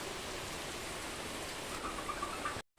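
Heavy rain falls in a steady dense hiss that lasts until an abrupt cutoff near the end, with no talk.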